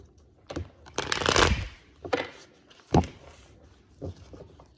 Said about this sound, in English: I'm going to do a couple more shuffles here